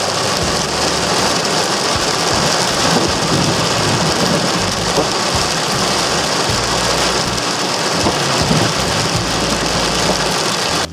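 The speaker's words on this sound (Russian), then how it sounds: "Офигеть, даже град пошел." Hail and heavy rain pelt down during a thunderstorm at a riverside fishing spot beside a parked car, a dense, loud, continuous roar with no pauses and no voices.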